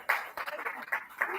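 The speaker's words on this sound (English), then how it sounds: "Another round of applause for them." A short burst of clapping from a seminar audience, a handful of distinct claps in quick succession, close and moderately loud.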